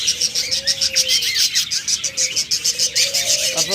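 Pet budgerigars, cockatiels or lovebirds chirp in a breeder's cages, a rapid stream of bright, close tweets with a few longer whistled calls, continuous and fairly loud.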